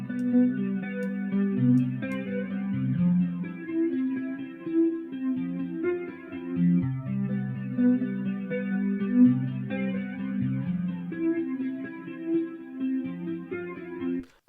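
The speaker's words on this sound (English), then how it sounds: "a flanger creates a sweeping jet-like effect by copying the signal" A flanger effect on a sustained harmonic synth or guitar part, its comb-filtered tone sweeping with a jet-like whoosh across a steady chordal line, moderately loud and heard alone with no voice.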